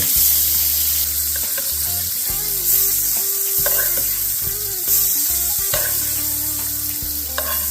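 A wagyu steak sizzles loudly in a hot pan while melted butter is basted over it, with constant crackling fat, spoon scrapes and clinks against the pan, and brief bursts as butter splashes onto the meat.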